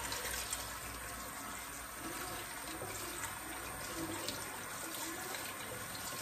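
Tap water runs steadily over fresh herbs being rinsed in a home kitchen, a continuous even splashing stream with no talk.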